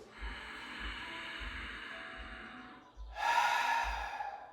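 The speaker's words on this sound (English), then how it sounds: "Deep inhale through your nostrils." A deep yoga breath drawn through the nostrils, a long steady airy inhale close to the microphone followed after a brief pause by a louder, rougher rush of breath.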